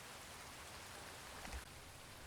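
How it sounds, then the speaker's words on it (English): Steady rain falls on an evening city, a dense, even hiss that holds constant throughout with no pauses and no voices. "The rain has been falling all evening."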